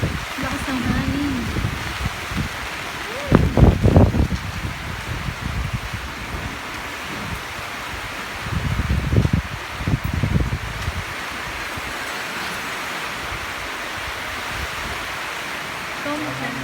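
Strong wind during rain in Pampanga rushes through leaves in a broad, steady roar that swells in a few louder gusts, with voices talking faintly underneath.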